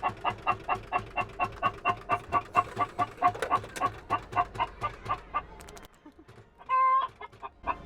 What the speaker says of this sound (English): It's quite an aggressive chicken.